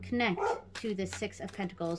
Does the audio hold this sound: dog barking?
yes